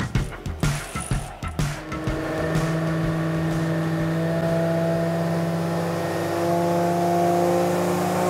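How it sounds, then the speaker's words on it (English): Cresta car engine on a hub dyno, a series of sharp throttle blips for two seconds, then a sustained loud steady high-rev drone held for several seconds, close and continuous. "we're going to be chucking the Cresta back on their hub dyno"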